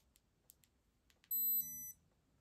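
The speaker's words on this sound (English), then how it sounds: "Not as loud of a beep." A smartwatch gives a single electronic beep lasting about half a second, first a bright tone and then a softer step down, preceded by a few faint ticks in a quiet room.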